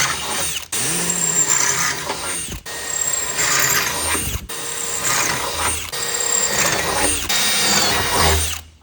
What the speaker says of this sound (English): Drill these spot welds out.